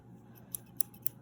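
Small scissors being handled during eyelash application, three crisp metallic snips at an even pace, close and quiet.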